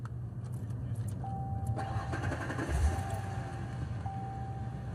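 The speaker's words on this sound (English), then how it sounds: "I am going to start the car." A car is started with a key: faint key jingles, then the engine cranks and catches, settling into a low, steady idle in a quiet interior.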